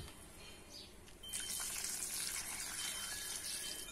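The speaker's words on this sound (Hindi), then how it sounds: "तो मैं दोबारा से इनको पानी दूंगी" Water pours onto potted plants: soft background for about a second, then a sudden steady gushing splash that continues close and fairly loud to the end.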